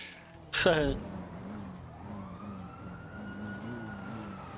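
A wailing emergency siren from an ambulance in GTA Online rises and falls in the background of a driving scene, with engine noise underneath and a sharp tonal swoop near the start.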